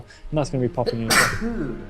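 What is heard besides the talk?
sneeze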